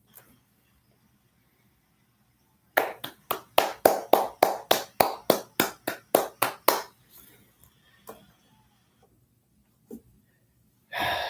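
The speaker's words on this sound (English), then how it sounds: "Round of applause. Round of applause." About fifteen sharp, evenly spaced claps from a single person ring out close and loud in a quick rhythmic burst, then fade into quiet with a couple of isolated knocks afterward.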